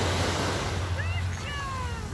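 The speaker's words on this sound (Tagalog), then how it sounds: "Dagat." Steady broadband wash of surf on a shore, with wind buffeting the microphone and a few faint high chirps over the roar.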